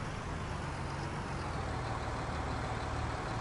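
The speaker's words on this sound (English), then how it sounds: "Can you hear the tractors?" Tractor engines in Farming Simulator 19 drone steadily as a low, continuous rumble with a broad noisy wash above it, holding an even level throughout without any talk.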